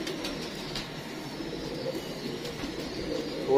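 Golden Imamdeen pigeons give soft, low coos in a loft, faint and intermittent over a steady background hum.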